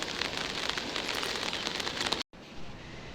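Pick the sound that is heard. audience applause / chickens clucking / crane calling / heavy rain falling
heavy rain falling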